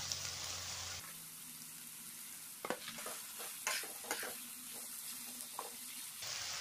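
Chicken pieces sizzle and crackle in a hot pan, with several scraping stirs and knocks of a utensil against the pan.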